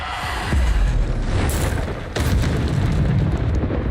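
In the Hogwarts Legacy video game, a Depulso force spell fires amid heavy combat, with loud booming bursts and rumbling blasts over a dense, noisy battle backdrop, one sharp impact near the start and another partway through.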